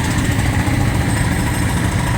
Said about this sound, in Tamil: ட்ரில்லிங் பண்ணுறான், சவுண்டு வருது.